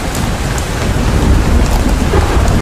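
Heavy rain pours down steadily and loudly, a dense close wash of drops on surfaces with a low rumbling undertone, and no voices.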